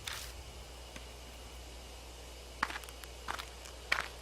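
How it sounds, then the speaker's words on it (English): Footsteps in the bushes from the horror game Death Mark: a few soft, scattered rustling steps, spaced and growing slightly more distinct, over a quiet low hum with no talking. "I hear footsteps again."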